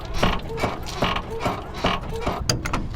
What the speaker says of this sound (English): these leaf springs are just super creaky